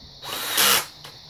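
A power drill whirs in a short close burst, spinning up, peaking briefly in a louder high whine, then cutting off with a faint tail, no talk over it.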